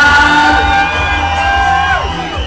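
A crowd at a cumbia dance hall lets out a loud, sustained collective shout and whoop that tapers off toward the end, with voices blending into one roar.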